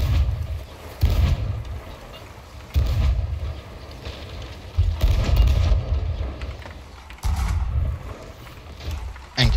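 Ship cannons in a pirate naval video game fire anchor balls and chain shots, heavy low booms recurring every couple of seconds in a steady barrage over wind and sea noise.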